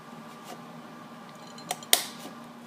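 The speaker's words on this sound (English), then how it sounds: "Lastly, I'm just going to round off the corners." A cutting tool snips the corners off a handmade birthday card, giving two quick, crisp clicks near the end over a quiet background.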